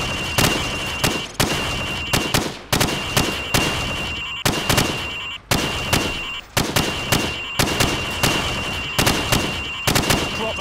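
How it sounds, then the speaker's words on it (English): Rapid rifle shots at pop-up targets on a Call of Duty 4 training range, fired through wood, plaster and sheet metal. Loud sharp bursts come in irregular clusters with short gaps, over a steady tone and no talk. "Shoot the targets through the wood."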